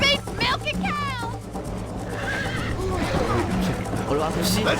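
A horse in the video game Red Dead Redemption whinnies with a shrill, wavering cry, followed by steady galloping hoofbeats and game background noise, with a voice speaking over it.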